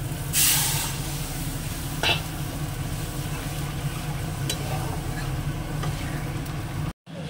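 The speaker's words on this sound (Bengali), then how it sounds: "এবার ডালটাকে ঢেলে দিই।" Lentils poured into a hot tempering of spices and fried mango sizzle, a bright hissing burst at first settling into a steady low sizzle, with a couple of brief clinks along the way.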